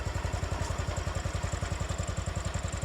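A John Deere 214 lawn tractor runs in first gear at its slowest pace, its engine thumping in a rapid, even low pulse, loud and close, with no other sounds.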